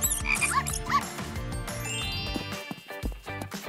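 A cartoon frog croaks in a children's animated scene, with several short croaks early on against a busy music and effects bed.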